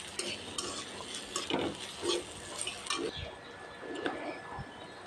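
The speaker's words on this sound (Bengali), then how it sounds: "আদাও হালকা ভেজে নেব, বেশি ভাজবো না" Crushed ginger fries lightly in oil, a low sizzle under scattered stirring scrapes and small clinks of a utensil against the pan, faint and close.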